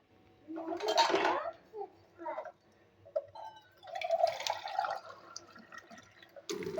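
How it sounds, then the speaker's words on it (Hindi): Water is poured into fishing bait dough made of flour, arriving in a couple of splashing, gurgling bursts with quieter pauses between them and faint background noise. "अब मैं इसमें थोड़ा सा पानी और डालूँगा"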